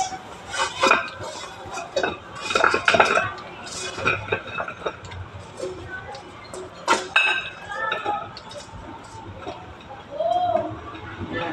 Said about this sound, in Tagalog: Ngayon transfer na natin sa ating plato.